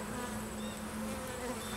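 Honey bees buzz in a steady, dense drone at close range during a hive inspection in a cathedral hive, with no talking.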